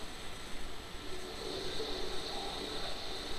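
A drone flies in the Batman: Arkham Origins video game, giving off a steady engine-like whir and hum that holds evenly throughout with no speech.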